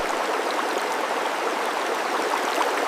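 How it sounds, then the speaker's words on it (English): Constant broadband rush of a fast-flowing river current in the rain, steady and close, with no voices. "I begin my journey by wading through a raging river in the rain"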